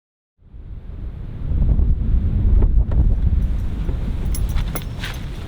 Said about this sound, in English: it's definitely windy today